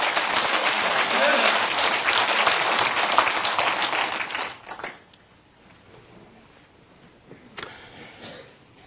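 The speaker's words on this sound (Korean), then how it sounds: "눈 감고 진심으로 높이 하나를 들고 환영하려면 박수해보라고요." A congregation at a religious sermon gives dense, loud applause for about four seconds. It then fades quickly into quiet room tone with a few faint knocks.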